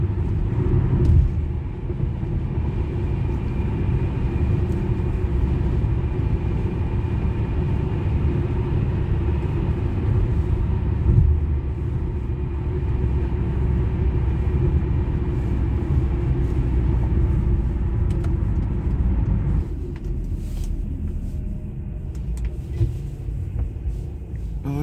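Strong wind whipping through a Northern Kentucky snow squall makes a loud, steady roaring rumble that holds without a break before easing somewhat near the end.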